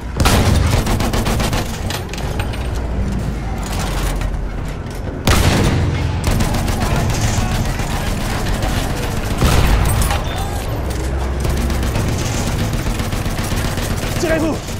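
Battlefield 1 battle at Soissons with rapid machine gun fire chattering almost nonstop, loud and close, punctuated by heavier booming blasts around the fifth and tenth seconds, while in-game voices call out at times.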